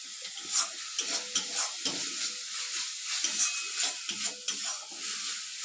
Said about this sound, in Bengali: মশলাটাকে আরও 2 মিনিট ভালোভাবে কষিয়ে নেব।